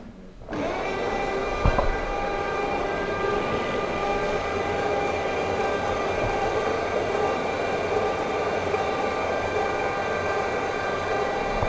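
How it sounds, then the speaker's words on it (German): Air blowing off steadily from the slideout of a 2020 Morelo Palace Liner motorhome as it prepares to extend, a sustained hiss with a mechanical hum that begins abruptly and holds evenly for about eleven seconds, with no talk. "Jetzt bläst nämlich erstmal, wird die Luft abgeblasen hier."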